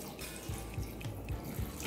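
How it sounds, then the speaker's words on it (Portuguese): Water poured into a pot over chicken breast for cooking, a close splashing and gurgling stream with small rhythmic surges, alone without talk. "E eu vou colocar água aqui só para cobrir"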